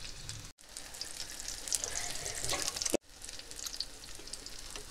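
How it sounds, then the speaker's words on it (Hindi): Hara bhara kebabs shallow-frying in oil in a pan, a steady close sizzle with crackling spatter, broken by two brief cuts to silence, no voices. "मैं सारे कबाब इसी तरह डाल कर फ्राई कर लेती हूँ अच्छा कलर होने तक"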